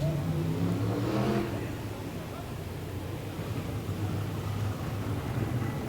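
Super sedan race cars at Moama Speedway, a dirt track, rumble and rev together at a distance as the field forms up for the main race, a broad engine drone under a commentator's voice.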